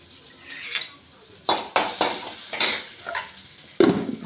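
Pots and utensils clink and scrape in a pan as shallots go into hot oil with mustard seeds, a series of sharp metallic knocks and stirs, loudest near the end, with no talk.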